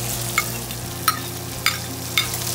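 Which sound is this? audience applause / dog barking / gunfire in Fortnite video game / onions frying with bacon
onions frying with bacon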